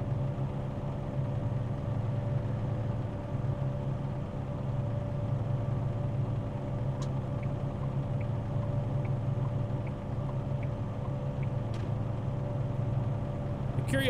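Truck engine drones steadily in American Truck Simulator, a constant low hum with a faint whine on top, unbroken and moderately loud, with no voices.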